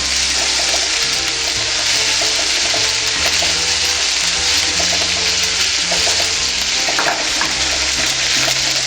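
Dried red chillies sizzle and fry in a pan for mutton kudal curry, a steady loud crackling hiss throughout, with soft background music and no talking.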